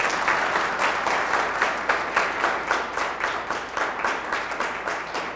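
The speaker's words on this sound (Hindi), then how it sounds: "क्यों ना ताली बजाए" A church congregation at a Hindi-language worship service applauds, with loud, dense clapping that pulses in a steady rhythm throughout.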